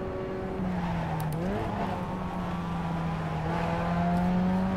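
Race car engine in iRacing held at part throttle, a steady close drone that dips briefly and then climbs again as the throttle opens slightly, with no voices.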